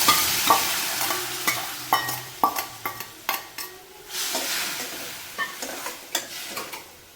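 Boiled cabbage stir-fried in a hot pan, sizzling steadily while a utensil scrapes and clacks against the pan in irregular strokes, close by.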